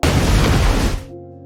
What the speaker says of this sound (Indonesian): bom itu meledak.